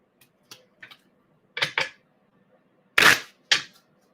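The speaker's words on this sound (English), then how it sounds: "I'm feeling one more shuffle for you." A deck of playing cards shuffled by hand in a quiet room, giving a series of short, crisp snapping flicks and riffles, some faint and some loud and close, separated by brief silences.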